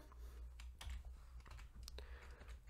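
Short bursts of keystrokes on a computer keyboard as a file name is typed, quiet and close, with irregular clicking taps over a low hum.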